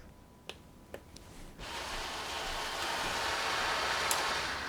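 Two small mechanical clicks, then a steady whirring buzz of a model railroad switch machine motor throwing a double crossover for a few seconds, faint and close.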